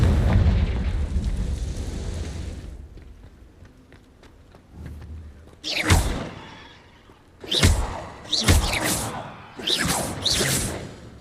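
Confringo blasting spells exploding in the game Hogwarts Legacy: a dense rumbling wash opens, then a rapid series of about five loud, sharp blasts with whooshing tails bursts out close by.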